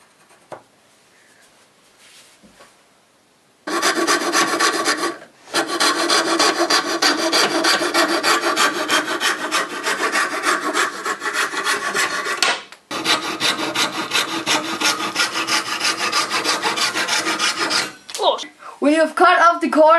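Someone cuts the corners off a wooden board with a steady, rasping sawing that runs for about fourteen seconds, broken by two brief pauses. The strokes are close and loud, and a quiet stretch comes before the cutting starts.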